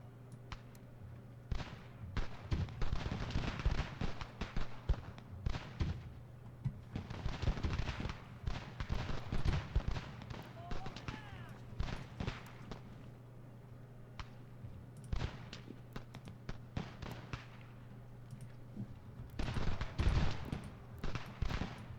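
Musket gunfire in the strategy game Ultimate General American Revolution, Battle of Concord: dense bursts of crackling volleys and scattered single shots, rolling in waves with brief lulls, moderately distant and fairly faint.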